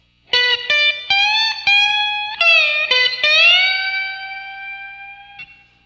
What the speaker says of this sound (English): the last lick of the song you hear while the band is doing the big finish sounds like this